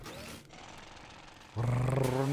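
A drill in the video game Splatoon Raiders starts up with a steady, loud mechanical whir that kicks in abruptly after a stretch of softer game noise.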